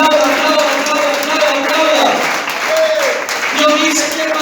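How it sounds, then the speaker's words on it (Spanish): A church congregation claps in a continuous wash of applause while a voice or tones ring out intermittently above it, the clapping holding steady and close throughout. "Aplauda"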